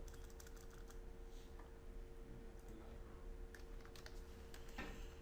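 Steady, quiet clatter of a computer keyboard as C code is typed, a continuous run of soft key clicks over a low background hum, with no talk.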